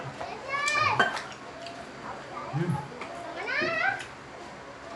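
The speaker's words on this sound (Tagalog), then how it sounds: "Mga bata naglalaro." Kids playing noisily in the next space over during a Kapampangan samgyupsal dinner, with bursts of high-pitched yelling and chatter coming in waves, moderately loud against background room noise.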